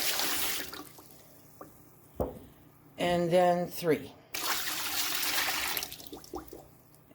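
Water poured by the quart into a Presto pressure canner with the rack set in the bottom, a short splashing pour followed by a brief gurgle, heard close between stretches of quiet talk.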